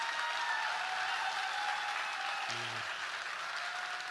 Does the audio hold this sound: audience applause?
yes